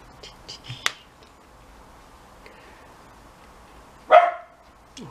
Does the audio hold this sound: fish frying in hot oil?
no